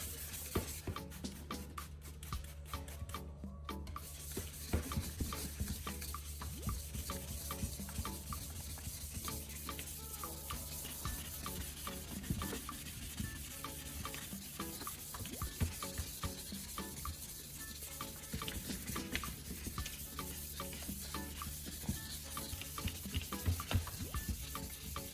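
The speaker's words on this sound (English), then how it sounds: "Sand in one direction first, then change direction slightly, so the surface is treated more evenly." Sandpaper rubs over an old car headlight lens in steady, repeated strokes, a continuous close scratchy rasp with no talking.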